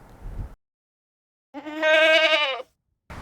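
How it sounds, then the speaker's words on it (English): A sheep on a fly-ridden hillside at the Giants Causeway gives a single loud, wavering bleat lasting about a second, preceded by a short burst of wind or rustling. "the whole place is absolutely covered with sheep"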